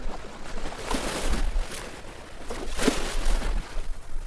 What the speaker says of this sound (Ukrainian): Вірно, це море.